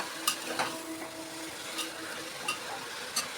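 Vegetables sautéed in a large pressure cooker, with a soft steady sizzle and scattered clinks of a spoon against the metal, close and moderately quiet.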